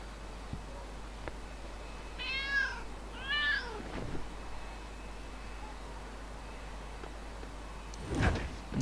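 Two quick, close meows from a cat in Lego City Undercover sound over a low in-game hum. Soft knocks follow, and then a sharp sliding, door-like clatter.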